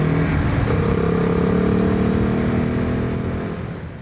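A Royal Enfield Himalayan 450 engine runs hard with a steady, deep guttural exhaust drone and a rising rev tone. It is loud and close and holds for several seconds before easing off slightly at the end.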